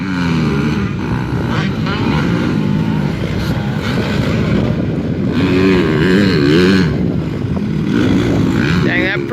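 Motocross bikes with dual Yoshimura exhausts roaring around a practice track at Evergreen Speedway, engines revving up and down in a continuous loud drone with rising and falling pitch, while people talk over it.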